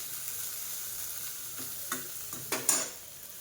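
Eggplant slices fry in a pan with a soft continuous sizzle, broken by a few louder scraping stirs near the end and no talking.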